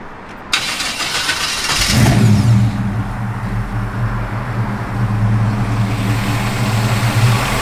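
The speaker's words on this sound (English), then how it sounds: "Truck runs out real good." A 1972 Chevrolet Blazer K5 truck engine cranks and fires up after a short whir, then settles into a loud, steady, rumbling run close by.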